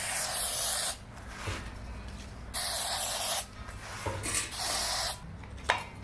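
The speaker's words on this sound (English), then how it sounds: "So you spray this stuff onto your welds." Alcohol pre-clean degreaser sprayed onto welds from a can in three long, loud hissing bursts, each about a second, with short pauses and faint handling noise between them.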